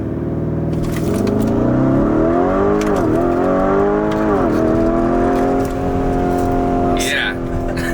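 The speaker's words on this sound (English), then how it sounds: "do a quick little launch from like 0 to 60" A Lamborghini Urus launching from a standstill to 60, its engine note climbing loudly through rising revs with brief dips at gear changes, heard from inside the cabin while occupants talk and exclaim.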